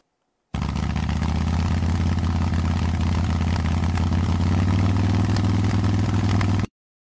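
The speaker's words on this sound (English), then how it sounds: "Motorcycle." A motorcycle engine starts abruptly, idles and revs steadily in a close, loud mechanical drone for about six seconds, then cuts off.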